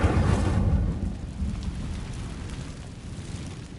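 An Incendio fire spell is cast in Hogwarts Legacy: a loud, roaring burst of flame that rumbles strongly at first, then settles into a steadier, fading crackle over a few seconds.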